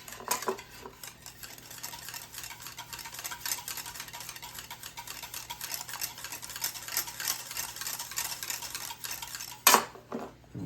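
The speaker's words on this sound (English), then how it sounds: "Give that about half a teaspoon of ginger to that. And give it a nice whisk." A whisk clinks rapidly and steadily against a bowl while half a teaspoon of ginger is beaten into a pork belly marinade, with a sharper clatter near the end.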